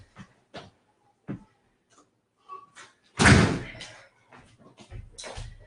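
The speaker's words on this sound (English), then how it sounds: "I gotta close my door" A door at home is pulled shut with a loud thump, heard after some scattered small knocks and footsteps, while a dog shuffles nearby and makes soft whimpering sounds.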